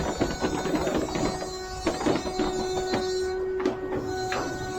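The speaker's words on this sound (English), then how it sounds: "That noise you can hear is the crane." Electric crane lifting a boat in a boatyard, a steady mechanical whine with rattling, clicking machinery running continuously at moderate distance, no talk over it.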